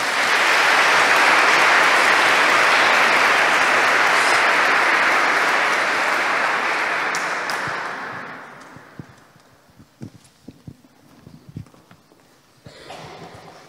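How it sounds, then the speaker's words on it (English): Sustained audience applause at the Pope John Paul II Award Ceremony in the Diocese of Derry, a dense roar of clapping that holds steady for about eight seconds, then thins and fades to scattered claps. "we'll give them all a round of applause."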